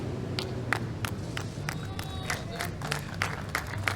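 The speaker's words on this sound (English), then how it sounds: "Applause there coming from the famous 3 Spanish" Scattered, fairly sharp claps from three Spanish karate athletes sitting in the crowd at a beach games men's individual kata round, repeating irregularly over a soft background murmur.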